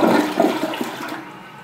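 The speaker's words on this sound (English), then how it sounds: "I don't know why that flush was kind of long" An American Standard Colony toilet, ADA height with a fast-filling valve, flushes with a loud, close rush of water that gradually thins out over under two seconds.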